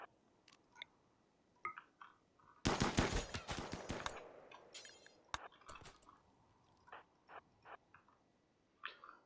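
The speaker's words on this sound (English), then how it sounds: "That was about as good of a use of triple rocket launcher as I've really ever had." A triple rocket launcher and other guns fire in the colony game RimWorld, with a dense burst of rapid shots and blasts in the middle and scattered single reports before and after, heard fairly faintly.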